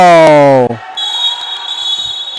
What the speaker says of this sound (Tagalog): Medyo nahuli yung buzzer.